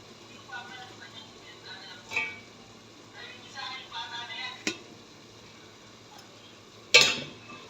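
Carrots being stir-fried in a pan without a wok, a soft background sizzle with occasional scraping stirs and sharp utensil clinks against the pan, faint and intermittent in a home kitchen.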